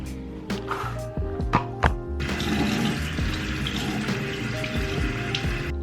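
Tap water running steadily for washing off a face mask, a broadband splashing rush that starts after about two seconds of clattering and stays even and close, with faint background music and no talk.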